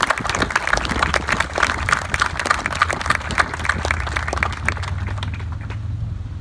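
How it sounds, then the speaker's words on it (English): Crowd applauding at an outdoor Memorial Day ceremony in Quincy, a dense, steady wash of many hands clapping at once that holds for several seconds, with a low rumble underneath, before thinning toward the end. "So if you could join me in a round of applause for everybody."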